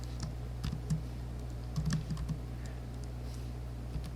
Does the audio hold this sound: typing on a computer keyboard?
yes